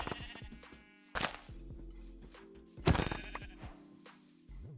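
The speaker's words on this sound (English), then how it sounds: "Oh, sheep. Here we go." Sheep bleating in a survival video game, two loud close bleats with a quieter one near the end, heard alone without talk.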